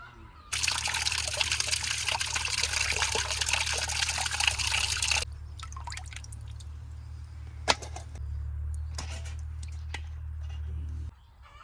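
Running tap water splashing loudly while fresh river fish is washed after cutting, a steady heavy stream for about five seconds, then a quieter trickle with small splashes and clatter continuing alone.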